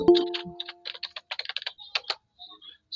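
A mobile number is typed on a computer keyboard: a quick run of a dozen or so crisp, close key clicks in an uneven rhythm, opened by a short tonal beep.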